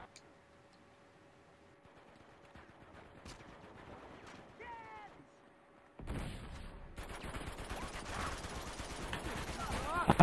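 Gunfire in Uncharted 2 multiplayer, sparse shots and clicks at first, then a sudden heavy burst of rapid automatic fire that keeps building to the end, with faint talk early on.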